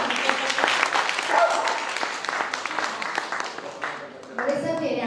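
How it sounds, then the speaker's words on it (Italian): Audience clapping at the Milazzo International Film Festival, a dense patter of hands that rises and falls while someone speaks over it, swelling again near the end. "Applaudite prima, poi continuo."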